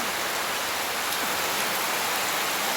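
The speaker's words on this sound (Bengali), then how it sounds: "দেখো কত বৃষ্টি হচ্ছে চার পাঁচ দিন ধরে" Steady, dense downpour of heavy rain, a constant broadband hiss with no gaps and no voices.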